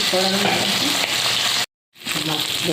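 Vegetables frying in oil for a spicy Bengali fish curry, a steady close sizzle that cuts out briefly to silence before resuming.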